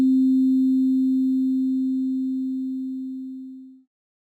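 Single synthesized sine-like note played in Sonic Pi with a long release, a pure low steady tone that fades smoothly over about four seconds to silence.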